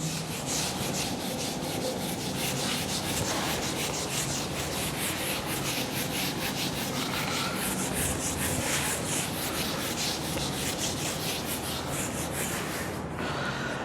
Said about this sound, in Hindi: पहले रब कर लेते हैं फिर आगे बढ़ते हैं